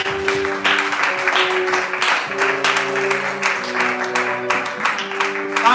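A church congregation at a fasting and prayer service applauds and cheers steadily, dense clapping mixed with voices and sustained musical tones throughout, fairly loud and close.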